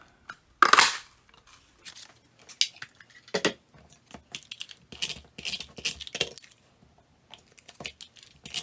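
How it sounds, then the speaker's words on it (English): A 2 1/4 inch circle punch cuts out a paper frame for a card, giving a sharp crunchy snap followed by a scatter of small clicks and paper rustles, close and fairly quiet. "Then I'm going to take my 2 1/4 inch circle punch"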